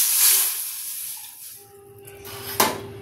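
Water poured into a hot kadhai hisses and sizzles sharply at first, fading to a softer simmering bubble, with a brief clank near the end; close and moderately loud.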